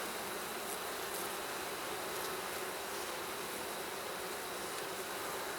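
Honey bees buzz in an open hive being inspected, a dense steady hum close by and continuous, with no talk.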